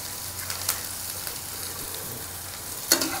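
Onion frying in a pan on a small stove at full gas, a soft continuous sizzle close by with a couple of sharp utensil clicks against the pan.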